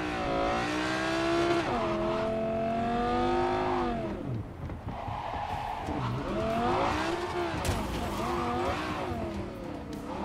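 A car in Cyberpunk 2077 driving and accelerating, its engine whining up and down through the gears with rising and falling pitch, loud and continuous, alongside occasional tire noise.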